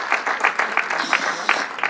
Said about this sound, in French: on peut applaudir Nadine pour la remercier pour ce qu'elle est aussi pour nous